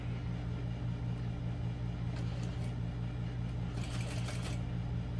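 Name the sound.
sewing machine top stitching vinyl seam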